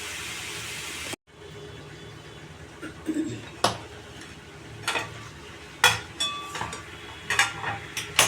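Ridge gourd sizzles quietly in spice paste in a pan while a metal spoon scrapes and clanks against it in irregular bursts.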